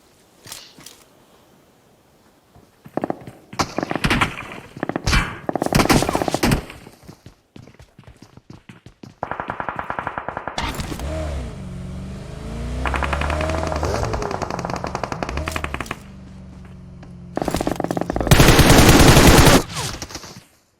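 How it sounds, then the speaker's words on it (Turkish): Gunfire in PUBG Mobile: bursts of rapid automatic shots crack in several loud volleys with gaps between them, plus a sustained mechanical hum and a final heavy burst near the end. "Bir de dışarıdan vuruyor ya."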